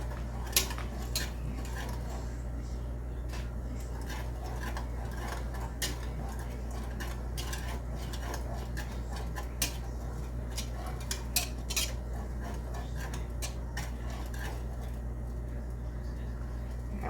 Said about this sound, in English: I'm gonna stop stirring it for a minute while we get it to the boil